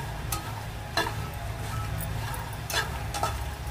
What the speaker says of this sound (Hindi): अब देखिए चूल्हा का फ्लेम हम मीडियम करेंगे, मीडियम में इसको हम फ्राई करेंगे